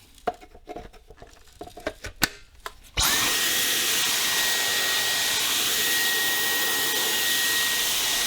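A Dyson V10 Absolute+ cordless vacuum cleaner switches on sharply after a few quiet clicks and handling noises, then holds a loud, steady, high-pitched motor whine close by for several seconds, with no talking.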